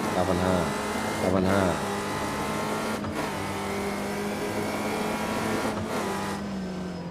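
Racing-game car engine from Nolimit 2, revving high with repeated gear shifts, each marked by a brief drop in pitch before the engine climbs again. The drone runs loud and steady throughout, with a voice talking over it.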